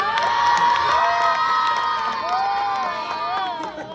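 A pageant crowd at a national costume competition cheers and shouts, with loud overlapping whoops and high voices in a sustained roar, plus rising and falling calls over the din.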